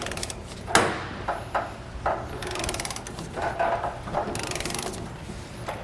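A wrench ratchets in short bursts to break loose the leaf spring shackle nuts during a Universal Group 3-leaf double-eye spring installation, giving a string of close, sharp clicking runs with metallic knocks and no talk.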